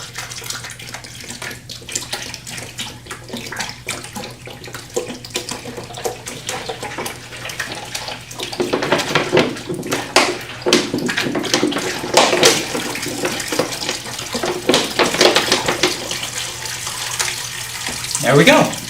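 Water pours into the basin of a hand-built hydraulic Heron's fountain, a steady splashing rush that swells louder midway and again near the end, with a low constant hum underneath.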